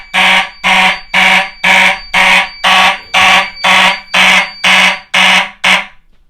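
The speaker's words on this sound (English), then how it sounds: "I'm going to pull the alarm because I want to make sure the horn sounds fine" Fire alarm system horn set off from a pull station, blaring very loud and close in eleven evenly spaced, roughly half-second blasts with short gaps, with no voices.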